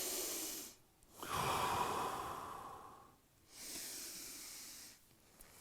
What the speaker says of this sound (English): Just make sure you're breathing.